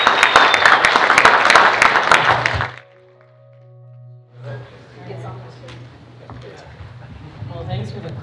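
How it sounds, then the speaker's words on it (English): Audience applause at a chamber of commerce community meeting, loud dense clapping for the first few seconds that stops abruptly, followed by quiet room hum and faint background voices. "thanks for the clap"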